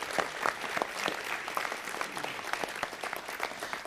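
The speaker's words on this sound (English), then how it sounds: "So let's give Christian a round of applause as well." Audience at a city council meeting giving a round of applause, a brisk, even patter of many hands clapping at moderate distance, sustained throughout without speech.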